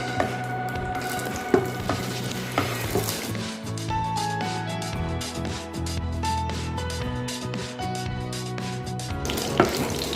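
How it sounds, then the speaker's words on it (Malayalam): Cashews and raisins roasting in ghee in a pan give a steady close sizzle with occasional stirring clinks, while a low tonal hum runs underneath. "ഇതിലേക്ക് നമുക്ക് കാഷ്യൂനട്ടും റൈസിൻസും കൂടി ഇട്ട് കൊടുക്കാം"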